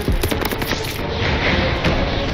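Rapid automatic gunfire in the Call of Duty Vanguard campaign, loud and close, with dense bursts of shots rattling continuously before easing into a steadier roar of battle noise.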